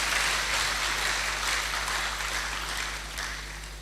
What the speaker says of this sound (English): I think that deserves a round of applause for Madam Vice Chancellor